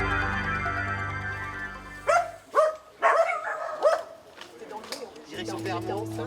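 Rescued dogs seized from a filthy yard bark in several sharp, close bursts, with a steady low hum before and after and a voice speaking French.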